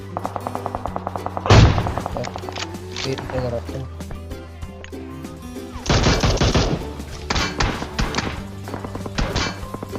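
Bursts of gunfire in a PUBG Mobile solo-vs-squad match at the Military Base map, two loud volleys and several shorter shots over a steady game soundtrack, with a voice talking over parts of the action.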